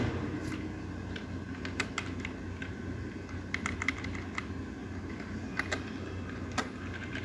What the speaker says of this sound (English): So I will type here